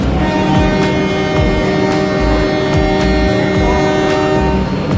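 Vande Bharat Express pulling into Kanpur station, a loud steady rumble of the train with sustained horn-like tones and rhythmic clattering wheel beats throughout, no voices.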